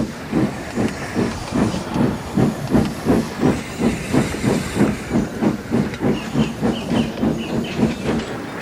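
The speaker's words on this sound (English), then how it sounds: "I can make air and steam blow the ashes through his funnel" Steady rhythmic chuffing of a steam locomotive as steam and air blow ashes out through its funnel, with an even hiss and regular puffs repeating throughout, fairly close and alone.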